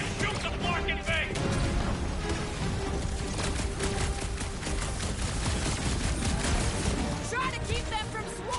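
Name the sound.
gunfire shooting the clamp in Guardians of the Galaxy video game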